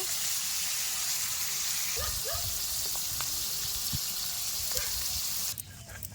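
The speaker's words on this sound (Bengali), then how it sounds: "আবার ঠান্ডা দুধ দিয়ে ঠান্ডা করে পনিরগুলো সব ছেড়ে দিয়েছি, এবার ভেজে নেব।" Homemade paneer pieces frying in hot oil in a pan, a steady broadband sizzle throughout with a few clinks of a utensil, dropping off in the last half second.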